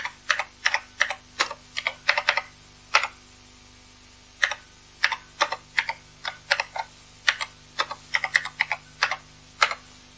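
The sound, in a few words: typing BASIC program lines on Acorn Electron computer keyboard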